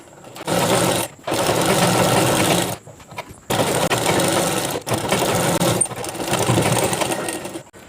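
A sewing machine stitching the bottom of a free-size chudidhar, running in long loud whirring bursts broken by short pauses, close and steady with no talk.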